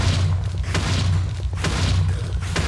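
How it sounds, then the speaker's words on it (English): A Minecraft wither's spawning explosion booms loud and continuous, with heavy low rumble and repeated thudding bursts throughout, no talk over it. "you do not want to die from this explosion"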